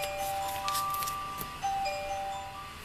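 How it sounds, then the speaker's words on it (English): Mobile phone sounding an emergency alert during a typhoon, a faint repeating electronic chime of sustained tones heard against background noise in a room. "sorry about the noise, that was my phone going off."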